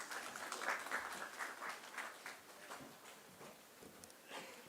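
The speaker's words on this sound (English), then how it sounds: "A round of applause for Cardiodiabetic Society 6th Annual Conference." Audience applause at the 6th Annual Conference of the Cardiodiabetic Society, fairly soft and distant clapping that thins out gradually.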